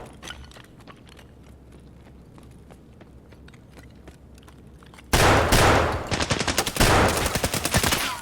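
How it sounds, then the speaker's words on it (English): Rapid close gunfire bursts in Escape from Tarkov break out after several quiet seconds of low background hum, loud overlapping shots firing in quick uneven volleys. "he shot out my flashlight"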